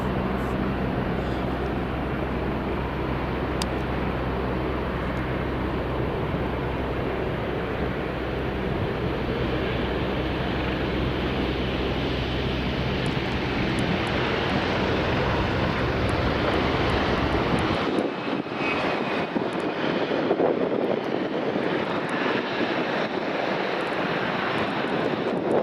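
A Loganair Embraer 145 airliner lands at Aberdeen Dyce Airport: a loud, steady broadband engine roar that carries on alone, then its low rumble drops away abruptly near the end while a lighter hiss lingers.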